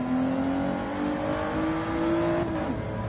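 A car engine revs steadily outdoors on asphalt, a continuous loud drone with a rising pitch that holds and then dips near the end, with no voices over it.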